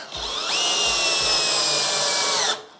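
A cordless drill from a four-piece battery tool set runs in screwdriving mode at torque setting 20, giving one steady motor whine for about two seconds with a few faint knocks before it starts, then stopping abruptly.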